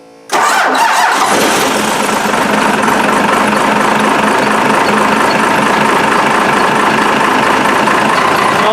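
A first-generation Cummins diesel fires up after a brief crank on a cold day of about 35 degrees, then settles straight into a loud, steady, slightly rough idle that holds unbroken to the end.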